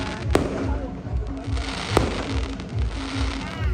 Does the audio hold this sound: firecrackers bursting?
yes